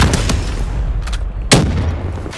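Loud, close gunshots in the shooter game Black Ops 3, a few sharp bursts spaced across a couple of seconds over a low rumbling game background.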